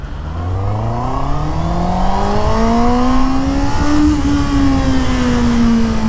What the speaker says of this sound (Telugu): బట్ వన్స్ 6000 ఆర్పిఎం క్రాస్ అయిందని అంటే మాత్రం బైక్ అయితే చాలా స్క్రీమింగ్ ఉంటుంది అన్నమాట.